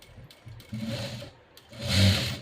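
A sewing machine stitches fabric in two short bursts with a pause between them, a close, soft mechanical whirring with no talk.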